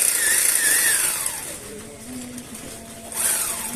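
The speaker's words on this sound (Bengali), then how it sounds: "প্যাকেটিং করার পরে সেলাই দেওয়া হচ্ছে।" Motorized sewing machine stitching relief food packets closed, a whirring motor whose pitch winds down and then surges again, close and steady, with no talk.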